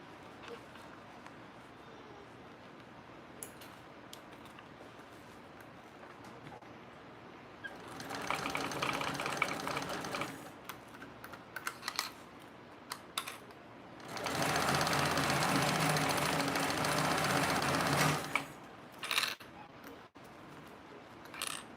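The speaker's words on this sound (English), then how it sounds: "So now we're just gonna baste this at 1/8 of an inch also." A sewing machine basts a seam at 1/8 inch on a piece fitted with magnets, running in two sustained bursts, the second longer and steadier, with a voice talking in the pauses.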